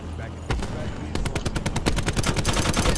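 Rapid gunfire from a video game, a burst of sharp loud shots in fast rhythm after a brief lull, continuing steadily to the end.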